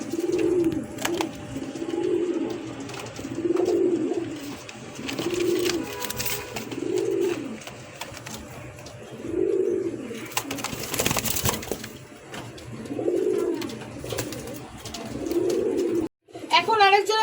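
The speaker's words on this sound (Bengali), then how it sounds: "এখন আরেকজনের রেসার কবুতর নিয়ে আসছি" Racing pigeons coo close by in a steady rhythm of soft, low, rounded calls, about one every second or two, with a person talking in the background.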